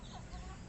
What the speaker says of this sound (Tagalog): Ito na po yung ating mga chicks.